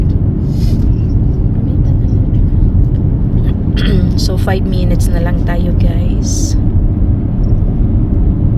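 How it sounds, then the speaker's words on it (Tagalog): Rush hour road traffic gives off a continuous low rumble of passing vehicles close by, while people talk briefly over the steady drone. "Medyo maraming sasakyan kasi rush hour pag ganitong oras."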